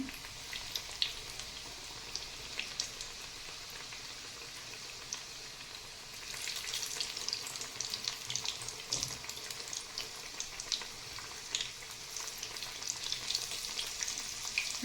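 Suran (elephant foot yam) fritters fry in hot oil in a pan, a continuous close sizzle that grows louder and busier partway through, with faint stirring sounds.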